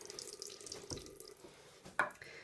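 Tap water runs steadily into a sink to rinse a makeup brush, with a brief louder splash near the end and no talking.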